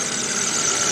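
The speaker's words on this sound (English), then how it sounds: "Okay, it's running. Got some squeaking belts," A Chevy Spark with a coil issue runs at a steady idle, its engine drone close and loud with a thin high squeal from the belts riding on top, no talk.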